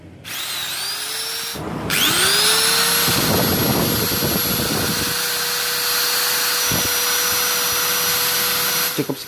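A rewound Magtech angle grinder motor (MT90/MT91A type) on an armature with 12 slots and 24 commutator terminals starts with a rising whine, spins up to a steady high-pitched drone, briefly cuts and restarts, then runs alone and loud.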